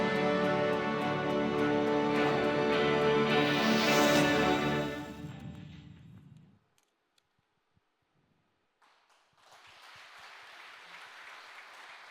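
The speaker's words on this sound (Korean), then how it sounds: "자랑스러운 모두의 이름에 박수로 응원을 보내주시면 감사하겠습니다" Audience applause at Korea Zinc's 50th anniversary company ceremony rises loud and sustained, fades out into near silence, then a faint steady hiss returns.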